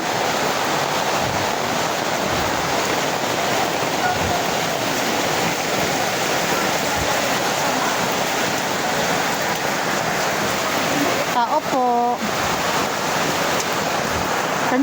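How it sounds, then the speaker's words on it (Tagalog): Heavy rain pours down in a constant, dense hiss throughout, with a brief muffled bump or creak near the end. "Uwi na ako, umuulan na."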